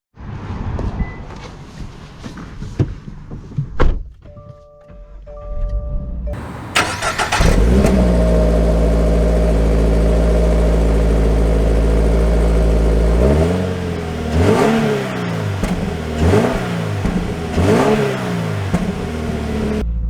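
A 2023 Subaru BRZ Limited with a manual gearbox starts up with a bark, settles into a steady idle, then revs repeatedly in rising and falling sweeps, loud and close.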